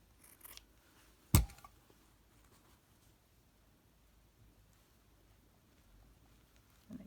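A single crisp snip of scissors cutting fabric scraps, close and clear, in an otherwise quiet room with faint rustling.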